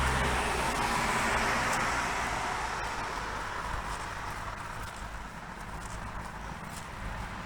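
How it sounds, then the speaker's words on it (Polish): Cars drive past on a street, a broad steady roar of traffic that fades slightly as a vehicle moves away, with no talk over it. "Nie wiem, czy mnie słyszycie, bo jadą samochody."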